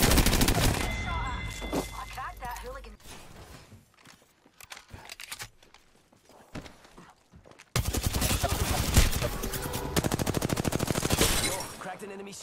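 Gunfire in an Apex Legends battle royale match, loud rapid bursts of automatic weapon fire in two heavy stretches, separated by quieter scattered shots and movement, with players talking over it.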